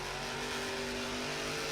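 A Monster Jam monster truck engine roars loud and steady during a freestyle run at the World Finals, a continuous close revving drone with no talk.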